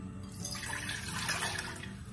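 Water from a large cup is poured into a pot for jaggery tea, a steady close splashing gush lasting a couple of seconds with no talk over it.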